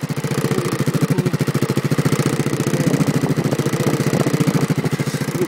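A TGB R125X motorcycle engine idles close by with a steady, rapid, even pulsing throb, no revving and no voices.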